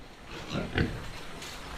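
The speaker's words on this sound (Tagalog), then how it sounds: "Yan, safe naman po yung ating baboy." Pigs on a farm in the aftermath of Typhoon Aghon give a few faint, brief grunts and oinks, peaking in one short burst amid low background noise.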